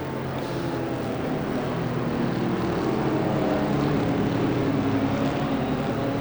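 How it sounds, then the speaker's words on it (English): Race car engines from a Sebring endurance racing video game drone past in a continuous, fairly loud rumble that swells slightly midway and stays alone without voices. "The rumble of engines going past."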